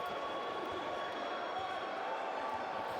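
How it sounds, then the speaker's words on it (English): Home crowd at a men's college basketball game against Lambton, buzzing loudly in a steady, dense roar just after a big dunk, with no clear individual voices standing out. "Crowd here still buzzing after that jam"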